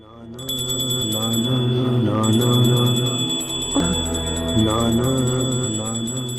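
A bright, sustained bell rings steadily during prayers over a droning, chant-like background, continuing throughout at a fairly loud level.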